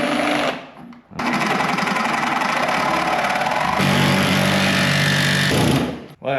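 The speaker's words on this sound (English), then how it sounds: "I'm gonna use this reciprocating saw to try to make this cut" A reciprocating saw with a worn blade cuts through a rusty bracket on an old boat trailer, making a loud, rapid buzzing rasp that stops briefly, restarts and runs steadily before cutting out.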